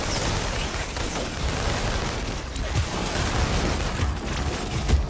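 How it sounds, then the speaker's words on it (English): A rapid, dense series of fireworks-like explosions in the video game inFAMOUS Second Son: rumbling booms and crackling bursts running together without pause. "Fireworks, man!"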